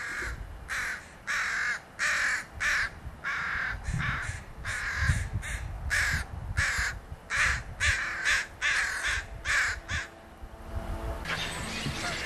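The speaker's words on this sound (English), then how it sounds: "They do get constantly hassled by crows." Crows caw over and over in repeated harsh bursts, loud and close, in an outdoor spot where diving birds such as buffleheads are being watched, with short gaps between the calls.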